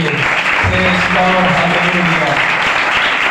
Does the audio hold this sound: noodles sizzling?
no